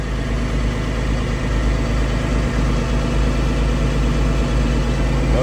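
A semi truck's diesel engine idles steadily and loud at close range, with a constant low rumble that swells slightly as the RPMs rise, and no one speaks over it.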